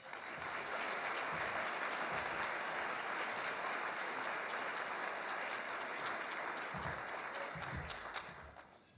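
A community report audience applauds steadily to welcome Chancellor Nasser Paydar, a dense, fairly loud clapping that holds throughout with a few nearby thumps and fades slightly at the end.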